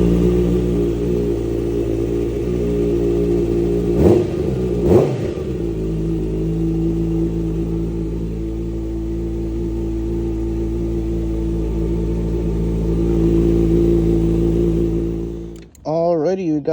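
A Kawasaki Ninja ZX6R fitted with a new exhaust and high-flow air filter idles with a deep, steady rumble, gives two quick throttle blips, then revs sharply up and down at the end.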